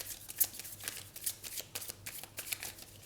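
A deck of oracle cards being shuffled by hand, with quick repeated papery riffles and flicks in short bursts, close but quiet.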